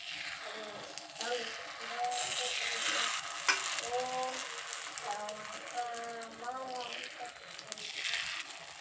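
Rice flour paddu batter sizzles as it is spooned into a hot oiled pan, with scraping and clinking from the utensil as a voice speaks over the frying.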